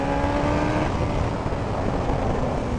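A Suzuki GSX-S 1000 motorcycle accelerates hard at full throttle, a loud, close, dense engine roar that stays strong throughout the short burst.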